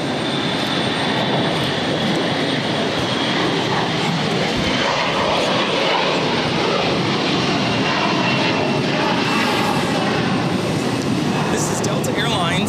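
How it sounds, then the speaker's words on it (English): A Delta Air Lines Airbus A321 jet takes off from Boston Logan airport, a broad, steady engine roar holding at close range throughout, with voices talking over it. "This is Delta Airlines 376 taking off to Atlanta on the A321."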